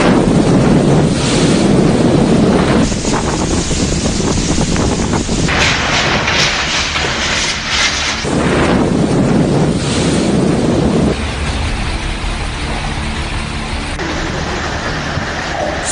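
Cyclone Nisarg's storm winds lash the coast in a loud, continuous roar of gusting wind and surf that buffets the microphone, with heavy waves of noise swelling and easing.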